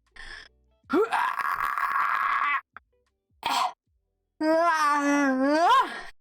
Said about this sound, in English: I just always yawn